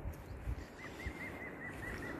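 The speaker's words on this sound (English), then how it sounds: "I love hearing the birds chirping." Birds chirp outdoors in a short run of repeated faint high calls, spaced close together over a soft background hum with a few low thumps.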